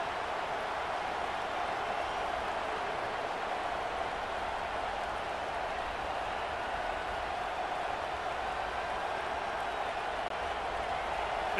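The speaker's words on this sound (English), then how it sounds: "This crowd trying to make life miserable for this offense." Stadium crowd at a college football game between Louisville and Alabama, a steady dense roar of cheering and noise that holds evenly throughout without breaks.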